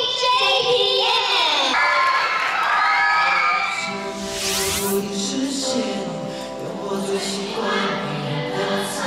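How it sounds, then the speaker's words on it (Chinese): A studio audience claps, cheers and whoops in welcome for JPM on a talent show, a loud crowd roar that swells and then carries on under a sustained tone. "让我们掌声欢迎 JPM。"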